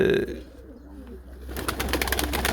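Young game pigeons take off and land nearby during early ground-target training, a brief soft coo giving way to a rapid flutter of wingbeats that grows louder and busier over the last second.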